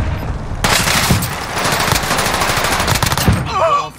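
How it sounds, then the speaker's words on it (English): Rapid automatic gunfire from the player's weapon in an online shooter game rattles loud and close in a dense, nearly unbroken burst for about three seconds, then cuts out to a brief squeaky chirp. "I did all that shooting, didn't hit shit"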